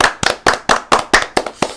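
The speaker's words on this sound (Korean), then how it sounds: "여러분 박수 한번 보내주십시오" Hand clapping in a Korean political talk show studio: eight sharp, close, loud claps land in a quick, steady rhythm, isolated with no talking.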